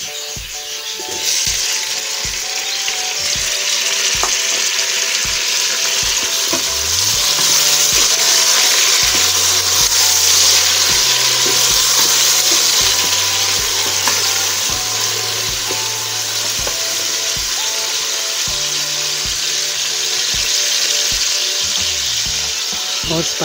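Tomatoes fry with golden onions in a pan, giving a loud, continuous sizzle with a steady low hum underneath and scattered clicks of stirring throughout.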